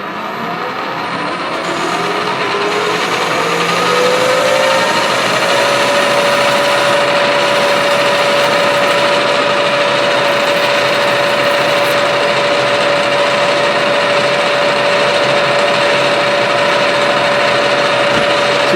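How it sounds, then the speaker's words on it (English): A metal lathe drones loudly and steadily as a parting tool cuts off a part for a spherical ball turner kit, the whine settling into a sustained high tone that holds for a long stretch. "Alright, back in the lathe. I'm lined up on my mark. Let's part this off."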